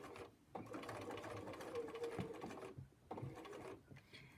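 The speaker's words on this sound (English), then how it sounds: "Put it underneath the presser foot, and I am going to stitch backwards." Sewing machine stitching backwards along a kimono sleeve seam, close and steady mechanical whirring in three bursts separated by brief pauses.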